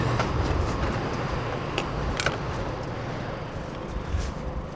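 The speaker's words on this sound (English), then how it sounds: "Oh, and there's a train going by too." Train passing by at night, a steady broad rumble with occasional sharp clanks, heard from a nearby vehicle with no talk.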